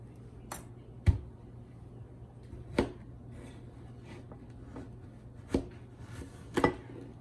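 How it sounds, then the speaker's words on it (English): A knife cuts through a vegetable onto a cutting board in a handful of separate sharp thuds spaced a second or more apart, close and fairly quiet, with a low steady hum underneath. "First of all, you need to slice off each end"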